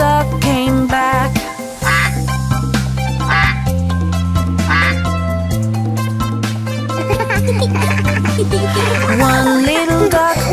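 Duck quacks in a children's nursery song, a string of rhythmic quacks sung and voiced over bouncy music, most likely a singer imitating the duck, repeating in a steady four-beat pattern.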